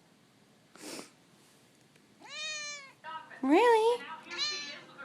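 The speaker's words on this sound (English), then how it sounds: "Meow, meow, meow, meow." An overweight cat named Lily gives several drawn-out, rising-and-falling meows close by, in a short series with brief gaps, while a person speaks softly nearby.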